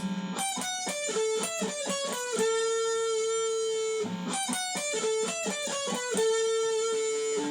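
A distorted electric guitar plays a fast solo phrase of quick picked notes settling into sustained bends, repeated twice, loud and upfront with no voices.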